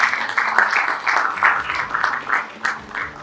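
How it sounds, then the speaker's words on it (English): A crowd at an Afritech event claps for the organizers, with bursts of applause rising and falling in rhythmic waves, fairly close and without talk. "The second applause will be for the organizers."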